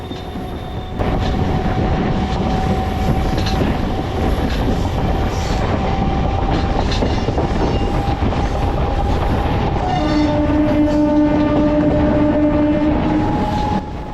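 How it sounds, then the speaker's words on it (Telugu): The Narasapur MEMU Express train 17269 rumbles steadily along the rails with a continuous rolling roar, sustained tonal hums rising near the end, no voices. "Narsapuram memo express train number one seven two six nine"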